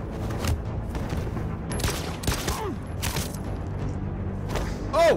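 Scattered gunshots and booming impacts from the video game Detroit: Become Human, several sharp bursts spread across a busy game soundscape with music and effects underneath.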